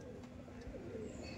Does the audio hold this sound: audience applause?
no